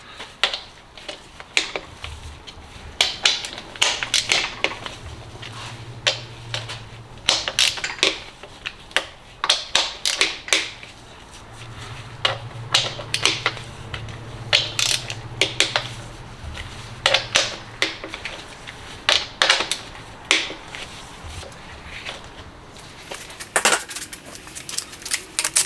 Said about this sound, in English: I'm going front to back, but I'm also alternating what bolt I'm taking out.